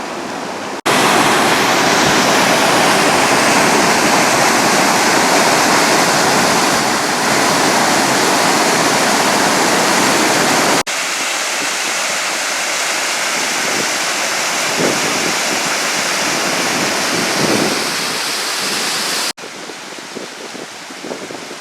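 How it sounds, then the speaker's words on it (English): Laurel Run Creek rushing down off the mountain from the dam after a storm, a loud, dense and continuous roar of water, close by, shifting slightly in level as the position changes. "Looking at Laurel Run Creek. It comes down off the mountain from the dam"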